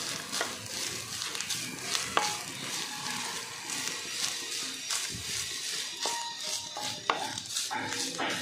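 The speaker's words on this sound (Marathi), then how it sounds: "खोबरं थोडंसं परतून घ्यायचं आहे।" Grated coconut sautéing in melted ghee for tomato coconut barfi, a continuous crackling sizzle with repeated scraping stirs and light clinks of a spoon against the pan.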